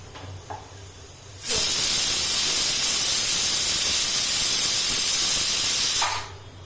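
A pressure cooker that has just finished cooking dal blasts out steam in a loud, continuous hiss lasting several seconds, starting and stopping abruptly, close by over quiet kitchen background.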